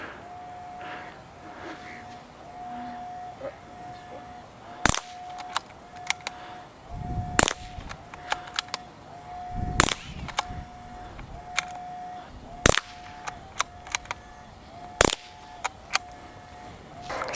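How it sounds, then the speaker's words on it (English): Rapid shots ring out at a Caldwell target turner, several sharp loud cracks spaced a few seconds apart over a steady background tone, with lighter clicks and knocks in between. "we're going to shoot faster this time."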